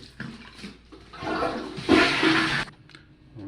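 A toilet flushes nearby with a rising rush of water that swells for about a second, then drains and fades, clear and alone in a quiet room.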